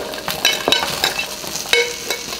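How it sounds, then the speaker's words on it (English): Carrots frying in beef fat in a pan for boeuf bourguignon, a close, steady sizzle broken by several sharp scraping stirs at uneven intervals. "I'll be putting the carrots"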